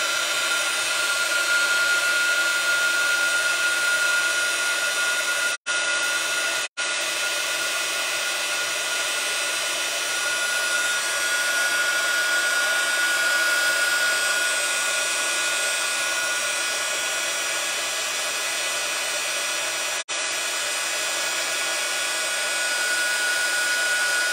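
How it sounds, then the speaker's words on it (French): A heat gun blows steadily and loudly for the whole stretch, a constant whooshing hiss broken only by a few brief cut-outs, with no voices over it. "on va faire marcher le pistolet chauffant. Alors, je fais un peu de bruit."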